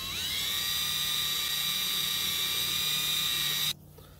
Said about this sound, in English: I'm just going to drill a little hole